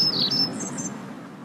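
Bright, high bird chirps in a Hindi animated cartoon sound close and clear for a moment, then fade into soft chirping over a low background hum.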